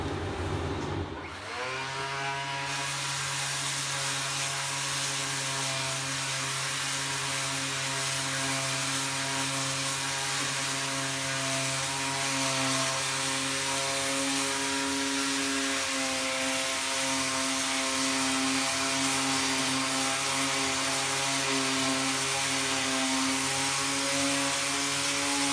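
A power sander working over a trailer's main frame to strip flaky paint and rust, a loud, continuous motor whine with a steady droning hum that holds unbroken from start to finish.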